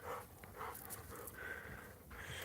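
Several dogs pant quickly and steadily in the woods atop a lakeside cliff, close and fairly soft, with a faint whimper in the mix.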